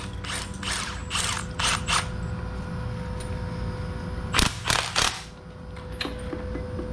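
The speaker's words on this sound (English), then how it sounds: "So we'll go ahead and get this spring compressed." Spring compressor ratcheting on a Nissan Versa strut spring in a home garage: bursts of quick metallic clicking repeat at intervals over a steady low hum, close and moderately loud, with no talking.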